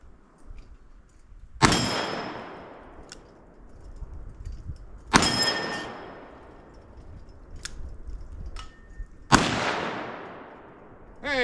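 A revolver firing Underwood 240 grain jacketed hollow point rounds at full power: three loud, sharp reports spaced several seconds apart, each with a ringing decay and faint clicks in between.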